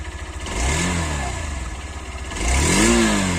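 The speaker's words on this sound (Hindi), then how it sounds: "तो यहाँ पे जो इसका एग्जॉस्ट नोट है वो थोड़ा सा स्पोर्टी और थ्रोटी ज़्यादा है।" A Hero Xtreme 160R motorcycle revs twice, its sporty, throaty exhaust note rising and falling close by with a steady idle between the blips and no talking.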